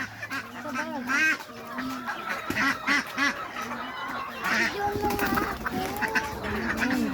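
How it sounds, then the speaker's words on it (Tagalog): A crowd of chickens clucks and squawks nearby, mixed with duck quacks, while a person talks over the noisy flock. "Oh, grabe, ang daming manok ko."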